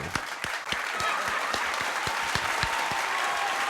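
A small group applauds close by, with individual claps ringing out distinctly over a continuous bed of clapping throughout.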